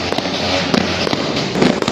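New Year fireworks and firecrackers bursting over Makati at midnight, a dense continuous crackle of many near and distant explosions with sharper loud pops standing out, no talking.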